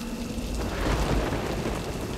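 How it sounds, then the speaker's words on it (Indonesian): Steady heavy rain falls in Mumbai, a dense close hiss of drops on surfaces with a low rumbling swell near the middle, loud and continuous with no voices. "Hujan di Mumbai luar biasa ya"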